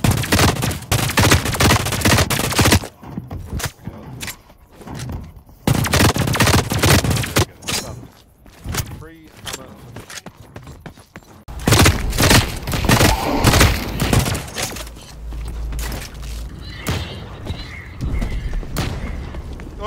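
Rapid gunfire and grenade blasts in The Cycle: Frontier, loud bursts of automatic fire and booming explosions in dense clusters with brief quieter gaps.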